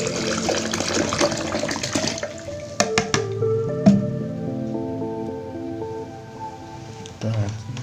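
Water is readied and poured into a container while a ruqyah herbal mixture for a house or shop is made, giving a sloshing, splashing stream that fades over several seconds, with people talking throughout.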